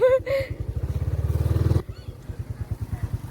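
A motorcycle rides over a rough dirt track through rice fields. The engine putters in a fast, steady pulse and rises briefly to a louder throb, with a voice speaking over it.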